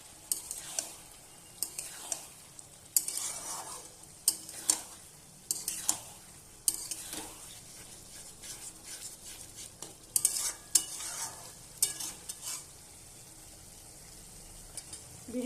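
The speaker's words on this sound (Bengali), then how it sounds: "ভালোভাবে নেড়ে দেব।" Bottle gourd and egg curry with ground roasted coriander and cumin being stirred in a pan, spaced scraping and knocking strokes against the metal over a soft, faint sizzle, close by.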